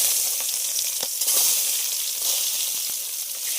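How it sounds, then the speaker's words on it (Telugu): Onions fry in hot oil with a steady, bright sizzle that holds throughout, with small crackles and faint stirring taps under the hiss. "ఉల్లిపాయలు వేసేద్దాం. నూనె వేడైంది."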